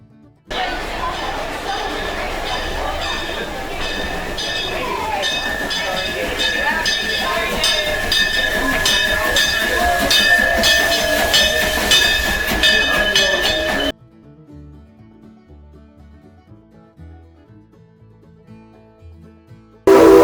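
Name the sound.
train ride at Branson park railroad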